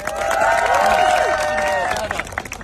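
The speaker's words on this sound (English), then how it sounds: "So, give yourselves a round of applause." Volunteers at a community gathering break into applause and cheering, a dense wash of claps and voices with whooping tones rising over it, loud and close, then thinning out toward the end.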